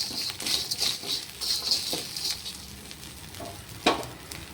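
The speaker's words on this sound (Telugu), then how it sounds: "సాల్ట్తో పాటే ఈ ఎల్లిపాయలు కూడా వేయించుకోవాలి." Rock salt and garlic roasting in a dry pan, giving a light crackling sizzle with soft stirring scrapes and a sharper clack near the end, close and steady with no talk.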